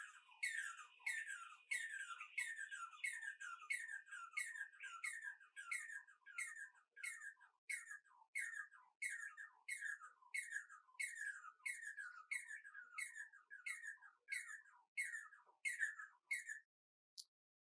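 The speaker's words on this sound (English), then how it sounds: "Barbets counter singing" Barbets counter-sing, trading rapid, repeated bubbly notes in a steady alternating rhythm, clear and unbroken for over fifteen seconds, then fall silent.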